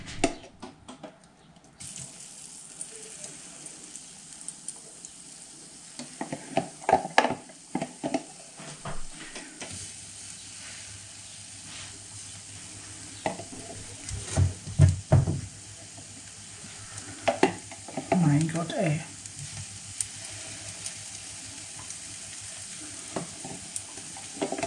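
Food sizzles in hot oil in a home kitchen, a soft, steady frying hiss with scattered clinks and scrapes of stirring, some louder bursts midway and near the end, and no talking.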